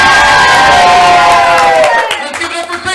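At a live game show, a studio crowd cheers and shouts loudly and closely, tapering into scattered whoops and clapping after a couple of seconds.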